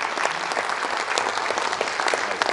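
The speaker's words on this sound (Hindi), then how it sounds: "एक बार जोरदार ताली होनी चाहिए उस आदमी के लिए।" An audience at a business leadership training session claps in a steady, dense round of applause, close and unbroken, with no talk over it.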